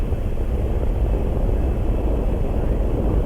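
The Gemini V Titan rocket ignites and launches in 1965, producing a loud, continuous low-pitched roar that rumbles steadily without a break.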